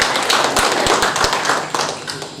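An audience at a hospital facility inauguration in Pemangkat, Sambas, gives a short burst of applause, a few sharp claps standing out over a hum of crowd noise.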